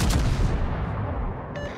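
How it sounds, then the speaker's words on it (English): Naval guns of a Tier 10 HMS Defence cruiser fire at an enemy ship in World of Warships, a heavy booming salvo with a rolling, rumbling decay and a faint electronic chime near the end. "Concentrate fire on the enemy warship."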